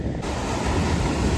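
Sea waves wash steadily onto a beach where dried fish baskets are being rinsed, a continuous broad roar with wind buffeting the microphone, loud and close, with no talk.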